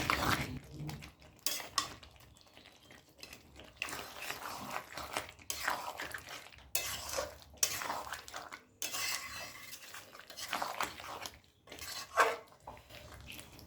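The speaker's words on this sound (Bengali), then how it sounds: "এবার তিন থেকে চার টুকরো আম এভাবে খুন্তি দিয়ে চিকেনের সঙ্গে মিশিয়ে দেবো" A metal spatula stirs mango pieces into chicken in a pan, producing irregular scraping and clinking against the metal in short bursts with brief pauses, close and moderately quiet.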